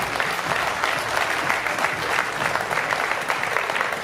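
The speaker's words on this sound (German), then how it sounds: "Applaus nochmal für die beiden Fighter." A crowd in a professional boxing arena in Essen applauds the two fighters, with continuous, even clapping and crowd noise at a steady level throughout.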